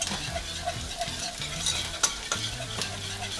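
A flour roux for Cajun gumbo is stirred in a pot, with repeated close scrapes of a spoon against the bottom over a soft sizzle and a few sharper clinks.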